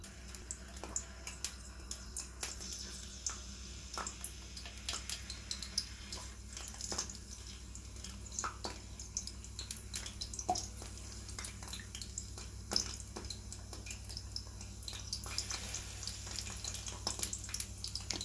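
Potato slices for homemade chips frying in a medium-deep pan of oil, giving a steady, fairly quiet sizzle with scattered sharp crackles and pops throughout, no voices.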